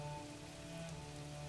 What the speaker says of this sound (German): weil es regnet hier